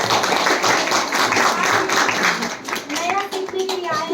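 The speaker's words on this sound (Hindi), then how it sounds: "आप सब लोग एक बार ताली बजा सकते हैं अपने लिए" A school audience at a direct-selling presentation claps for themselves, a brief, busy patter of hands close by, mixed with children's chatter and voices that grow more noticeable toward the end.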